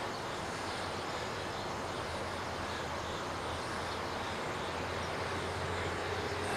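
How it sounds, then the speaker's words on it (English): Steady, loud engine drone with a constant whirring hum and no breaks from an Align T-Rex 700 DFC radio-controlled helicopter with a Leopard motor, flying nearby. "Good flying helicopter. Fly Barless."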